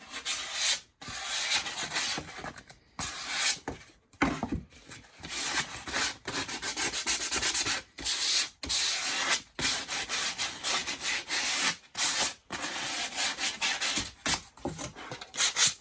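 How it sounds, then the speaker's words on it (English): Sandpaper works a hole in a frame made with an OxiKit V5 kit, a close, loud, continuous rasping rub in quick back-and-forth strokes with short breaks, and no voices. "This hole won't require all of the cleanup. You can put it with the sandpaper."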